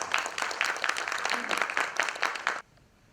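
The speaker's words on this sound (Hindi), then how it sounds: "जनाबे काशिफ सैयद का एक मर्तबा तालियां बजाकर इस्तेमाल।" A burst of audience applause at a mushaira poetry gathering in Pune, dense and steady clapping from many hands for about two and a half seconds, then cutting off abruptly into quiet.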